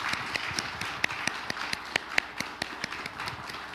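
After a vocal performance at the 48th Commerce and Industry Day ceremony, an audience claps in sparse, uneven, quiet applause, with separate sharp claps over a soft background.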